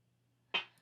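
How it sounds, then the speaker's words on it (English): A single layered snare drum hit sounds alone in music production, with a sharp, bright crack and a short decaying tail over a low hum. "I'll play the layered snare by itself."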